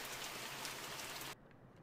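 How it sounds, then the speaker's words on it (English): Steady rain falling outside in a horror video game, a dense hiss that drops abruptly to a quieter level near the end, with no voices. "It's raining outside."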